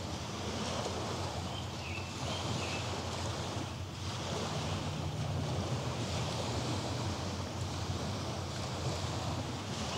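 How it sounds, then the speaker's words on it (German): Steady ocean-like waves and wind wash continuously through the microphone at Hamburg harbour, a dense broadband roar with faint hints of birds in the background, no voices. "so mit den Vögeln im Hintergrund und mit den Wellen"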